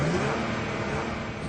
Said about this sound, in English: That is, in fact, a life-size radio-controlled car.